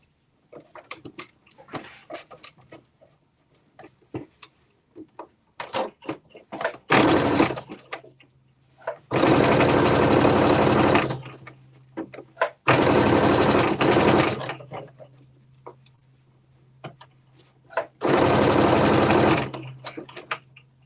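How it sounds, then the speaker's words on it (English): A sewing machine stitches a 5/8 inch seam in several loud, steady whirring runs of a second or two each, separated by quieter clicks and fabric handling nearby. "you're going to stitch it here all the way around 5/8 of an inch seam"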